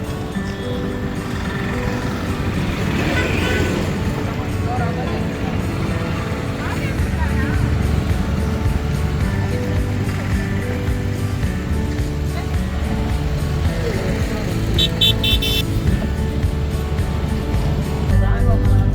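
A tour bus rolls through Visakhapatnam, its engine and road noise a steady, loud drone heard from inside, with people talking over it.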